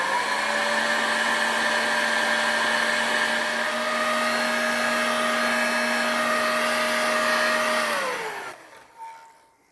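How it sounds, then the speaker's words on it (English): A hot air gun shrinks tubing onto a fishing hook and wire while rigging a jet head lure. It gives a loud, steady whirring blast that holds for about eight seconds, then winds down and cuts off. "Okay, I've got a proper hot air gun here."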